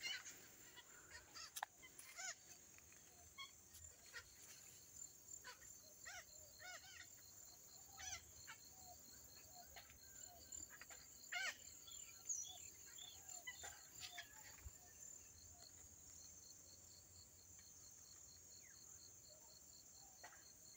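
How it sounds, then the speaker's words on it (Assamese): Parrots calling outdoors: scattered sharp squawks and chirps come faintly and at a distance over a quiet background of insect buzz. "নিশ্চয় শব্দখিনিও শুনিবলৈ পালে ভাটৌ চৰাইৰ মাত কেনেকুৱা"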